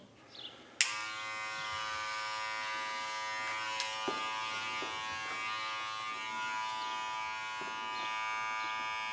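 An electric hair clipper switches on with a sharp click and then hums steadily and close-up, its buzzing tone shifting slightly as it cuts a flattop mullet, with small ticks from the comb.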